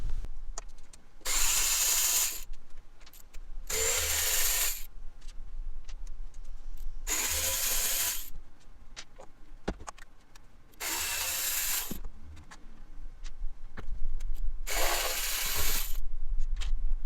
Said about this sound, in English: start removing the E Torx bolts that are holding the intake manifold on